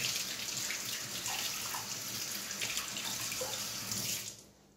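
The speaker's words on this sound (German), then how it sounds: "Ich wasche mal eben meine Hände." Hands washed under a running kitchen tap while cooking a chicken and potato bake, a steady close splash and rush of water that stops abruptly near the end.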